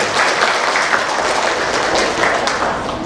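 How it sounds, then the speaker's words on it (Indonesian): Applause at a primary school farewell ceremony, a dense, steady burst of many hands clapping nearby for about three seconds. "Kita beri tepuk tangan"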